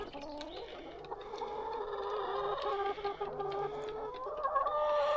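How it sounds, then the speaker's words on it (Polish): Hens cluck steadily close by while feeding on milk, soft overlapping clucks and calls running continuously with no talking. "Kurki zajadają mleczko"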